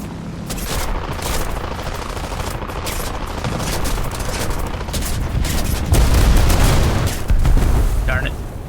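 Bombs exploding in the aircraft combat game War Thunder amid a dense rumble of blasts and gunfire, loud and continuous, with heavier booms swelling near the end.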